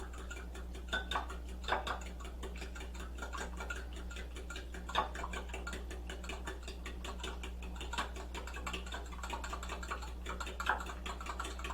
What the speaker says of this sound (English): We're going to beat the eggs inside of our milk.